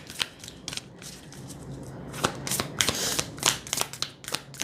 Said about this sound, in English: As I go ahead and shuffle the cards